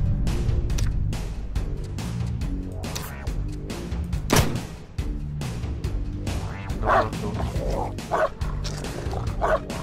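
In the survival video game Sheltered, a dog barks repeatedly and gives yips and whimpers. The sounds are close and fairly loud, mixed with busy game sound effects.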